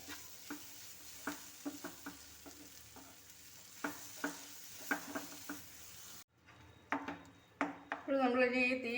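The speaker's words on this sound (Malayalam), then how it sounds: "ഉപ്പൂടെ ഇട്ട് നല്ലതുപോലെ വഴറ്റിയെടുക്കാം" Masala with salt sautéing in a pan, heard as soft sizzling and a regular series of close spoon scrapes and taps, with a louder burst of frying and clatter near the end.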